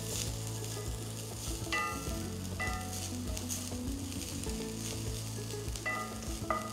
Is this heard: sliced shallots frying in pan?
yes